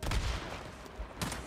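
Pistol gunfire in the Days Gone video game, a few sharp shots spaced irregularly, moderately loud over game background noise.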